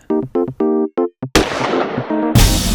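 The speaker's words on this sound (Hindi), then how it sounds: "सर ये तो गोली चलने की आवाज है।" Gunshots ring out during a crime thriller chase: a short tonal passage is followed by two sharp, loud blasts, about a second apart, each with a ringing tail.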